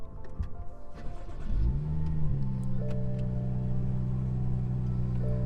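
A BMW fitted with a JB Plus tuner has its engine started, a short cranking whir that catches and settles into a steady, close idle hum with a faint electronic tone above it.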